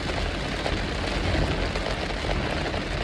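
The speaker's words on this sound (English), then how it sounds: "Y'all probably gonna hear the rain" Steady rain pours down outdoors, a dense, close hiss of drops pattering on surfaces with no break for the whole stretch.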